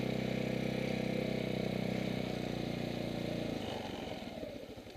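A motorcycle engine putters steadily and close on a practice range while riding slowly on the clutch, its rhythmic chugging easing off and slowing near the end.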